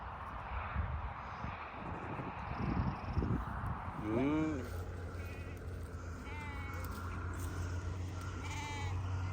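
A newborn lamb bleats once, loud and close, with a rising, quavering cry after a stretch of rustling and handling noise. A steady low hum from a passing aircraft runs underneath, and faint bird chirps come through afterward.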